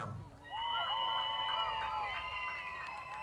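Crowd at an outdoor cardboard boat regatta at Cross Keys Village cheering and whooping for one boat, a sustained burst of loud voices rising after a brief lull and holding steady.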